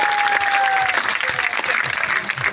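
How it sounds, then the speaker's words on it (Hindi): An audience at a political rally in Viratnagar claps to welcome guests, dense continuous applause with an amplified voice speaking over it. "उनका भी तालियां बजाकर स्वागत अभिनंदन करिए"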